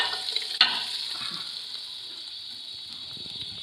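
Hot tadka tempering poured into cooked moong daal, a sharp sizzle burst that settles into a steady, moderately loud frying hiss that slowly fades.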